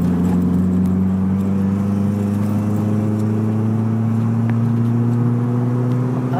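A Nissan 2.5 Turbo car accelerates, its engine hum rising slowly in pitch as a steady drone beneath road and cabin rumble, heard from inside and without talking.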